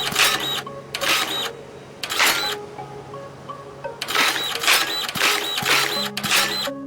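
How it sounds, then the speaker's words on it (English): Soil printer from the farming game Dinkum running in repeated bursts of hissing, buzzing mechanical noise over a steady low hum, loud and close, with no one speaking. "use the entire charge of the soil printer"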